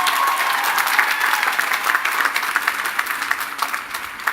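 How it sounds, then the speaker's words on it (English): A large audience claps at the 2018 Lehman College commencement ceremony: sustained, dense applause at full strength that thins slightly toward the end. "A big round of applause for them."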